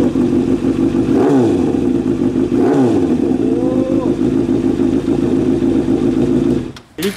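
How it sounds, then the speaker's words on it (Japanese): A high-revving motorcycle with an aftermarket muffler idles loudly, then is blipped twice in quick sharp revs before settling back to a steady rumble up close. "僕がこれを買った決め手がこのマフラーなんだけど、音がめちゃめちゃ良くて"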